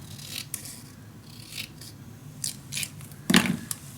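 Scissors cut paper for a scrapbook mini album, making several soft, quiet snips and rustles spaced unevenly over a few seconds, with a slightly sharper snip near the end.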